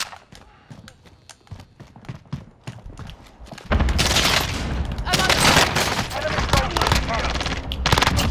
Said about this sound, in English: Am I already getting fucking people shooting at me?